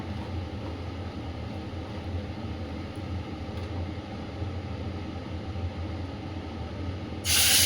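Kitchen exhaust chimney fan running to clear oil soot while cooking, a steady low droning whoosh that holds evenly throughout, ending in a sudden burst of louder hiss.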